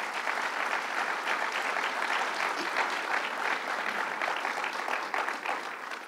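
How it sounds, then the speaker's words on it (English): An audience at a Long Island political campaign event claps steadily, a full round of applause at moderate distance, sustained for several seconds without voices. "Calvin Butts, let's give him a round of applause."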